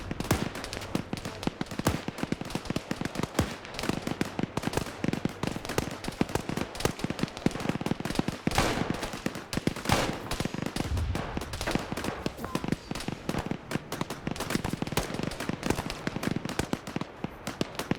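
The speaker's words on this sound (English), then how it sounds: "I just heard AT fire" Anti-tank weapon fire within dense, continuous military video game combat: rapid crackling gunshots and booming blasts pound without pause throughout, loud and close, with a heavier thump partway through.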